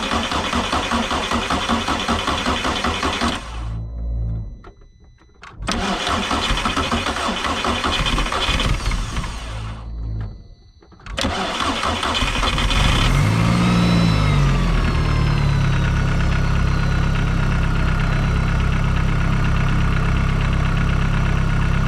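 A broken VW GLI cranks in two long starter bursts that fail, then catches on the third try and settles into a loud, steady idle, with the car smoking.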